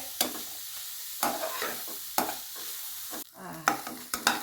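Red soya beans and grated coconut stir-frying in a pan, a close steady sizzle punctuated by sharp spatula scrapes about once a second, with no talking.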